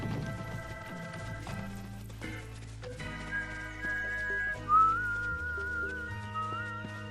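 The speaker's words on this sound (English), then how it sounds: "Oh, heard me whistling?" A person whistles a sustained, wavering melody, moderately loud and near, over a steady musical game soundtrack.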